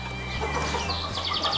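Several farm chickens cluck and squawk up close in short, uneven bursts over a steady low background hum, with no one speaking.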